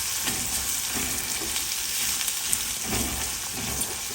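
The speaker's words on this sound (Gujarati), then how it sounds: "એકવાર આપણે આ બધા મસાલાને સારી રીતે પાછા કૂક કરી લઈશું" Cumin, turmeric and other spices sizzle steadily in hot oil in a pan, a dense continuous frying hiss with occasional soft stirring scrapes and no voices.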